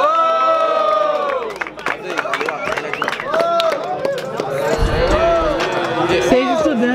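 A lively crowd at a freestyle rap battle final in Guarulhos, Brazil, cheers and shouts continuously, loud and close, with voices rising over one another and a surge of noise near the end.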